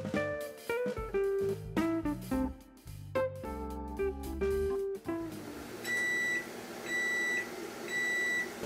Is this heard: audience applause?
no